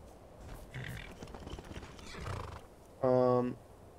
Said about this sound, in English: Let's summon the horse.